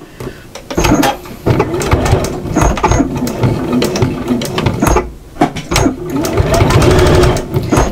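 Sewing machine stitching the hem of a fabric apron, a loud, close mechanical whirr running in bursts with short pauses between runs.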